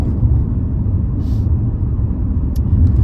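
A car cruising along a road, heard from inside as a steady low engine and tyre rumble with faint brief clicks, and no talk.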